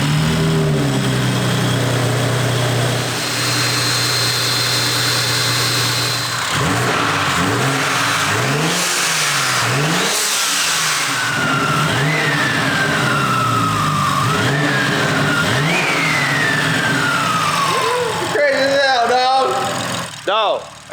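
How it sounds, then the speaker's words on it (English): BMW F30 340i with a B58 engine and big turbo kit starts up and revs hard, with rising and falling revs and a distinct turbo whine over a loud, steady exhaust. A voice talks briefly near the start. "I couldn't wait to hear the car fire up."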